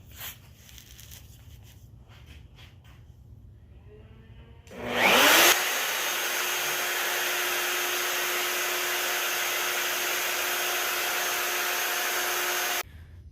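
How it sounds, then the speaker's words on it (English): A router cutting shelf slots in wood inside a cabinet spins up sharply and holds a loud, steady high whine for about seven seconds before cutting off, with quieter workshop noise beforehand. "I'm going to cut the slots for the shelves inside the cabinet. I'm going to use my router"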